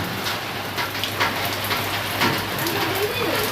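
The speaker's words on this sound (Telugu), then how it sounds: "వర్షం పడుతుంది చాలా చల్లగా ఉంది" Light rain falls steadily on surfaces close by, a continuous soft hiss with scattered drops, quiet talk faintly beneath it.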